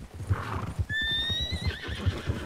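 Horse hooves clip-clopping in a steady walking rhythm, a horse neighing loudly partway through, with faint voices in the background.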